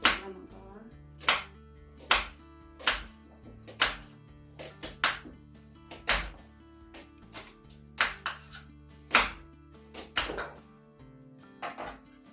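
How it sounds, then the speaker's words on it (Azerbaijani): Carrots for pickled cabbage are chopped with a knife on a cutting board, giving sharp, close strikes in uneven bursts, roughly fifteen or more, over soft tonal background music. "indi isə keçirik kökümüzü doğramağa"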